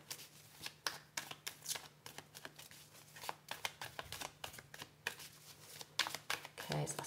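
Tarot cards are shuffled by hand in a quick run of crisp riffling flicks and soft slaps, near and steady throughout, with a faint low hum beneath.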